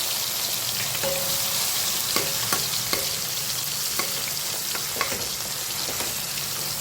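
Chopped tomatoes fry in a pan with a pinch of asafoetida, giving a steady close sizzle broken by sharp clicks and scrapes of a spoon stirring every second or so. No one speaks.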